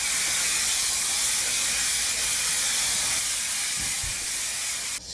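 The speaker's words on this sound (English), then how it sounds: "Take your aerogel, shake it, spray it on all over." An aerogel hair spray hisses out in one long continuous burst over curly hair, a loud close airy spray that cuts off at the end, followed by a faint rustle, with no voices.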